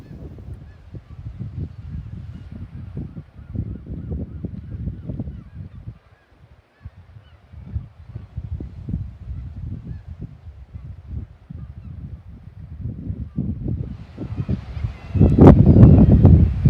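Seabirds calling on the coast near Portnockie in Scotland, honking and squawking calls in irregular bursts over wind noise, moderately near, with a louder gust near the end.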